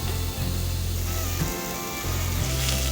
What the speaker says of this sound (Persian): داخل همون تابه اول پیازهامو میریزم و بعد همزمان هویجم رو